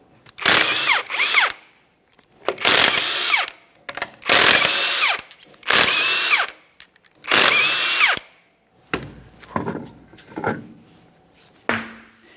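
Power tool loosening 21mm lug nuts on a rear wheel of a 2010-2013 Kia Forte Koup, five loud whirring bursts in a steady rhythm with short pauses, followed by softer clanks and handling noises.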